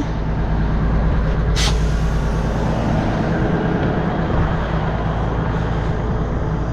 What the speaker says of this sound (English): let's air the trailer up and see what leaks